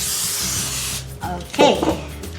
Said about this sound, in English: let's just spray it so the fish don't stick in the